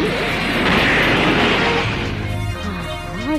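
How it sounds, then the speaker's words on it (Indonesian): Anime punching machine smashed apart by a powerful punch: a loud, sharp crash that breaks into scattered clattering debris and rumbling, fading over a few seconds. "dia pun langsung memukul alat tersebut dengan begitu kuatnya, sampai-sampai membuat mesin pemukul itu langsung hancur."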